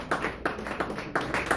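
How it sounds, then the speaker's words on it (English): Faint, evenly spaced hand claps, about half a dozen in a slow rhythm, ring out in a room at a political fundraiser held in a speakeasy. "people applauding"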